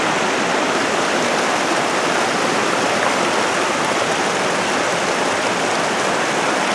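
Talapus Creek in the Alpine Lakes, two lake outflows joining, rushes beneath a one-lane bridge with a steady, full, close roar of flowing water that holds constant throughout, with no voices.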